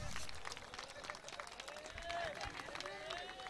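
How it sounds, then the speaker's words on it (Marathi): Audience applause at a cricket prize ceremony for Wardha Premier League 2025, steady clapping and crowd noise with a voice speaking over it throughout, fairly faint and distant. "यांच्याकरता टाळ्या वाजवण्यात, टाळ्या होऊ द्या जोरदार"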